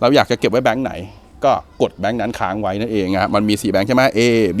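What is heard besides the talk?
No everyday noises stand out.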